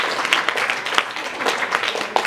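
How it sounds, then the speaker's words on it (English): Applause from an audience at a school-style award presentation, a dense steady patter of many hands clapping throughout, moderately loud with no pause. "A round of applause for Ellie as well, please"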